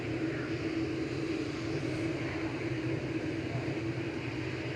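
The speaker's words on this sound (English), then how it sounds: "I love the noise the engines make when they start to spool up." KLM Boeing 737-800 arriving at Manchester Airport, a steady broadband jet engine roar with a low rumble, continuous and fairly loud with no talk.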